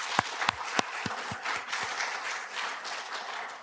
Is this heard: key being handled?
no